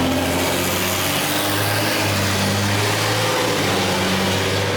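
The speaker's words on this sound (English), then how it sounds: "that was a FedEx truck" A FedEx truck passes by outside a car while driving with no one talking, a steady loud engine drone with a low rumble holding throughout.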